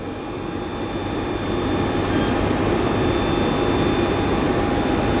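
Airplane jet engines give a steady, loud roar with a faint high whine, heard continuously while passengers board the plane.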